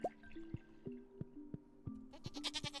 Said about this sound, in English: Get back here, goat. You don't even have any milk, you useless goat.